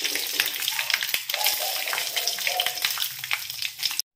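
Mustard seeds pop and crackle in hot oil with asafoetida and curry leaves for a Kerala sadhya-style instant mango pickle, a steady close sizzle with scattered sharp pops throughout.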